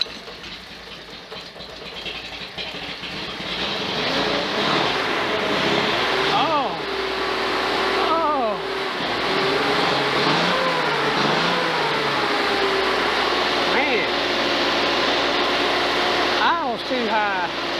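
A Datsun 280Z engine running on its first start in 15 years, revving up repeatedly in rising sweeps over a rough idle, close and loud, with people talking over the engine.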